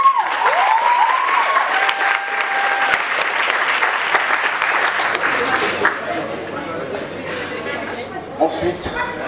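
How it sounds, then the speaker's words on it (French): A school audience gives Mme Aniga a long, loud round of applause at a presentation, with dense clapping that slowly thins out, while voices chatter over it. "Je sais que Mme Aniga a déjà eu beaucoup d'applaudissements avec les L, mais elle en mérite aussi pour les S."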